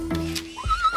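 A horse whinnies loudly and close, a rising then wavering neigh lasting about a second.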